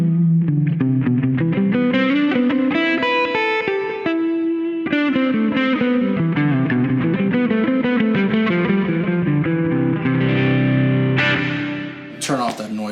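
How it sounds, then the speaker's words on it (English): An electric guitar played through a Kemper Stage with reverb and distortion rings out a loud, sustained melodic line of bending notes that fades near the end. "Let's see what we can do with just the reverb and then just our first line of distortion."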